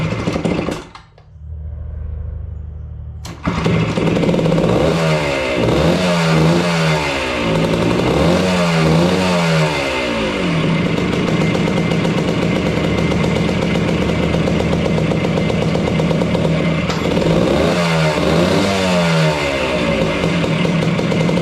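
An AT3 engine with a carburetor leak, choke pulled, briefly cranks, then catches and runs loud and close with a clattering idle, revving up and down several times.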